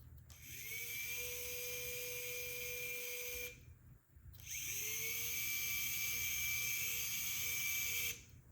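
A servo winch mounted on a truck bumper spools out cable with a steady, close whine that cuts off briefly and then starts up again for a second long run, with no talking.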